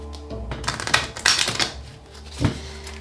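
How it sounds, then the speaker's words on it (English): A deck of tarot cards is shuffled by hand close to the microphone, giving quick papery riffles and clattering bursts with a short pause before a final flick. "Let's take one more shuffle."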